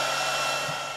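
A V-comb, a vacuum-powered head lice comb, runs with a steady, loud motor whir and airflow hiss, alone and unbroken throughout.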